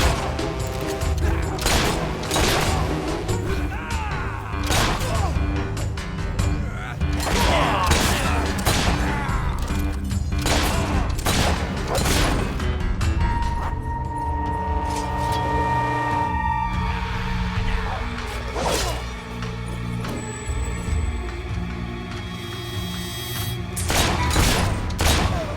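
Dense, continuous clatter of gunfire and thuds with shifting mechanical noise and brief tones runs for the whole stretch, shooting in the video game Fable 3.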